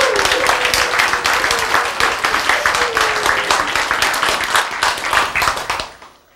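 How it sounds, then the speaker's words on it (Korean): Lecture-hall audience claps hard and fast, a loud, crackling round of many hands that holds steady for several seconds before tapering off quickly into silence. "우리 지우가 제 박수를 세게 쳐서 나 기분이 제일 좋아"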